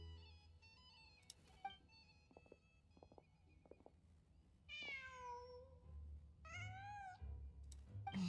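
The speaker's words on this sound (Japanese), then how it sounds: "なんだ、猫かい。" Cat meowing in Genshin Impact, two distinct rising-and-falling meows in the latter half over low background rumble and soft game sounds, with faint tonal chimes earlier.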